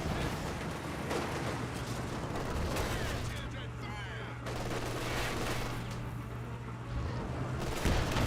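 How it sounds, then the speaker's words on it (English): Company of Heroes 2 battle din with an anti-tank gun firing amid dense, continuous gunfire and distant explosions, a busy layered war soundscape under a voice speaking. "Anti-tank gun engaging"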